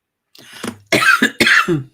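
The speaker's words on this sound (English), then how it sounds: "Still got the cough." A short, harsh fit of coughing, three raspy bursts in quick succession, close and loud.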